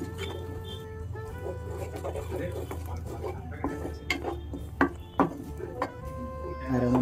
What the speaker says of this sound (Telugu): ఇప్పుడు ముందుగా పేస్ట్ చేసుకున్నాం టొమాటో ఆనియన్ పేస్ట్ని ఇందులో వేసుకుని కలిపేసుకుని మొత్తం కలిసేలాగా